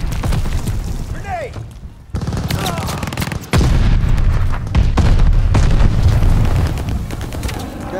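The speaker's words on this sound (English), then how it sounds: "Grenade!" A grenade blast in the Call of Duty Vanguard hardpoint match lands as a loud boom in the middle of constant gunfire and explosions, with booming impacts recurring throughout and a voice heard faintly under the battle noise.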